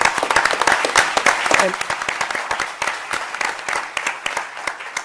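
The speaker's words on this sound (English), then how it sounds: "People usually clap after that" An audience at an award ceremony applauds, with many overlapping hand claps forming a loud, crackling burst that gradually thins and softens toward the end.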